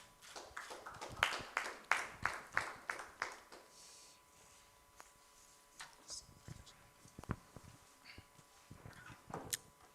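Scattered applause from a graduation ceremony audience for a speaker stepping forward, a burst of claps in the first few seconds thinning to sparse, isolated claps, fairly faint and roomy.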